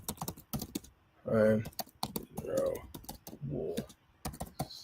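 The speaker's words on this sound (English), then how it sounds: "I'm just typing two things now." Rapid keystrokes on a computer keyboard come in clustered bursts, close and crisp, alternating with someone speaking between the flurries of typing.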